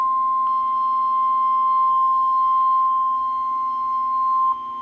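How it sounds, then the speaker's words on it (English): A NOAA Weather Radio station's EAS alert signal plays as a loud, steady single-pitched attention tone, held without a break for nearly five seconds before cutting off abruptly. "The preceding tone signals were sent of the alarm device of this weather radio station."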